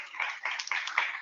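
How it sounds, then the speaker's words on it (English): A room of people claps in a few quick bursts, close and brief, with a faint voice under it. "There's that, the room clapping."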